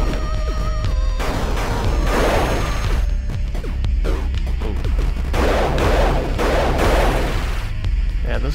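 Rapid bursts of gunfire from a weapon in the video game Axiom Verge, loud, repeated shots in quick clusters with short pauses, over a constant low rumbling game background.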